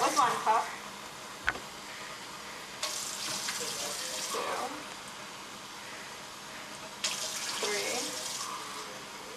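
Tap water runs from a sink faucet into a pot holding two cups of rice, pouring in short bursts that start and stop as each cupful is measured, with a person counting aloud over the flow.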